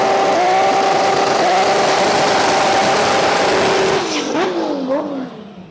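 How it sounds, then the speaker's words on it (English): Silver Mark IV Toyota Supra six-cylinder drag car at a Thai drag race, its engine roaring loud and steady at high revs, then rising and falling in quick blips before fading. "My personal favorite, this silver Mark IV Supra."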